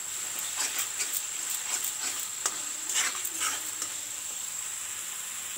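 Spices sizzle steadily in hot oil for a chicken and potato curry, with a continuous bright hiss and occasional stirring scrapes and pops, close and alone with no voices.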